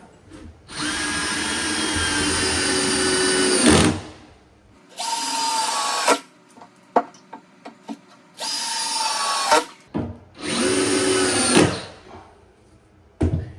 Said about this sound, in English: I pre-drilled 4 holes here, and I'm going to put in some deck screws.